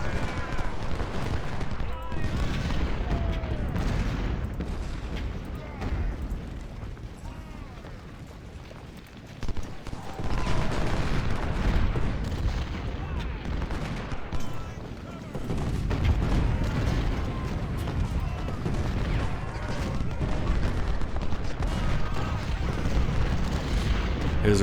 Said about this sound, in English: I'm losing the artillery duel right now